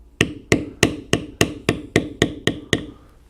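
A metal beveling stamp is struck with a mallet into leather during basketweave stamping, giving nine sharp, evenly spaced knocks about a third of a second apart, close and loud, with brief decays and no talking.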